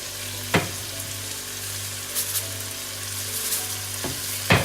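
Egusi soup with fresh spinach simmers and sizzles in a pot as Maggi and salt are stirred in, a constant close frying hiss broken by a few sharp scrapes of the spoon, with no voices.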